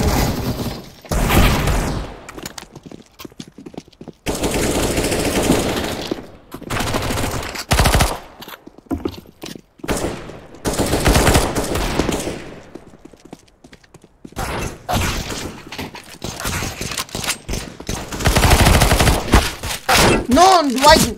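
Loud bursts of SMG fire in CS:GO, several long rattling volleys separated by short pauses, with speech mixed in at times.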